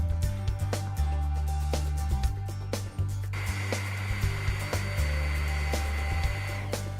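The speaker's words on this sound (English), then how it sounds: "we're just allowing fluid to flow through the rig and to bleed the unit" A Huck Model 940 Powerig portable hydraulic power unit runs while fluid is bled through the rig, giving a steady motor hum with a strong low drone and periodic clicks and shifts as the load changes.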